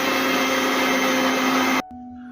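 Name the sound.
mixer grinder grinding millets into idli-consistency batter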